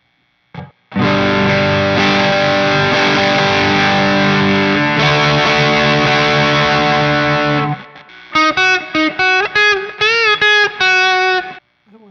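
Electric guitar through distortion pedals on a custom pedalboard: a long, heavily saturated sustained chord rings for several seconds, then cuts off to a run of short, choppy distorted notes, loud and close.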